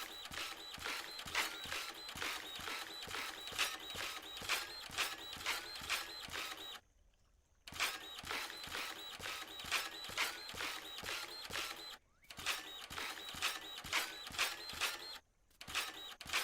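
Dirt printer machine running in the video game Dinkum, a steady whirring, creaking mechanical drone with a regular pulsing rhythm, broken by a few short pauses, with no voices.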